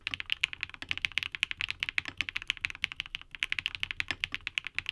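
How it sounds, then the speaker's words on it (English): Rapid, steady clacking of HMX mechanical keyboard switches being typed on, crisp and bright, close up with no talking. "These are super smooth with a bright sound signature, as you'd expect from an HMX switch."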